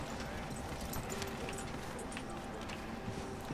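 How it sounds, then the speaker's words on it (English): Horse hooves clip-clop steadily in Red Dead Redemption 2 near an old depot, a quick even rhythm of hoofbeats over soft ambient game noise, moderately faint. "Gonna hitch my horse at the old depot."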